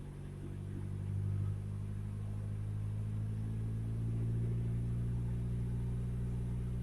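A car engine is held at about 2000 RPM during an alternator charging-voltage check. It gives a steady, close mid-pitched hum with a slight swell early on and no talking.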